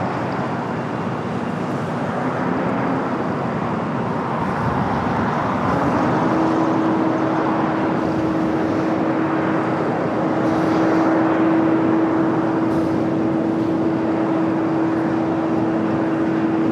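Japan Airlines Boeing 787-9 Dreamliner from Osaka arriving on runway 24 right, a broad steady jet roar that holds loud throughout, with a sustained whining tone rising and settling as it approaches.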